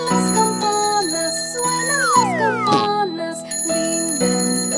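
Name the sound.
bells ringing in nursery rhyme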